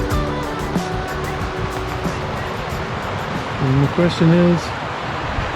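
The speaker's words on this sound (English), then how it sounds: "So we have arrived at the South Fork of the Kings River." The South Fork of the Kings River on the John Muir Trail gives a steady, loud broadband rush of flowing water that fills the whole scene, with a person talking over it.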